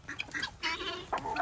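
A young chick on a small poultry farm peeps close by in several quick, chirpy bursts, with no talk over it.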